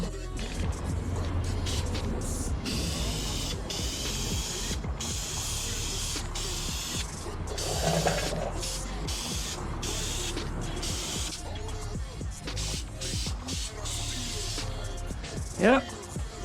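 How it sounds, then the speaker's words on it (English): Steady hissing of aerosol spray paint on a Toyota 2JZ engine runs continuously under people talking, with occasional clicks and a brief whistle near the end. "So gonna shake these bad boys up and start spraying."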